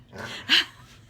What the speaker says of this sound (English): two co-workers that are of the canine variety who may or may not bark throughout this